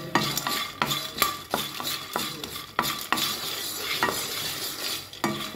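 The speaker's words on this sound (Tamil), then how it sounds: "இப்போ நம்ம இதை லைட்டாக ஃப்ரை பண்ணி எடுத்துக்கலாங்க." Dried turkey berries (sundakkai vathal) being lightly fried in a pan, with a steady soft sizzle and repeated sharp clinks of a spoon stirring against the metal, no voices.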